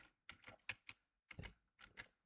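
Keys clatter on a computer keyboard as a prompt is typed in quick bursts of several close, crisp taps separated by short pauses, no voices.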